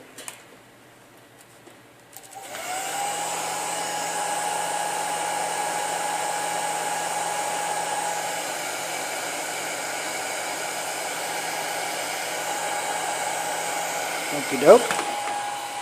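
A heat gun shrinking heat shrink tubing onto a tattoo machine wire switches on after a quiet start and blows a steady, close, rushing hiss for about twelve seconds, ending with a knock; a voice speaks briefly.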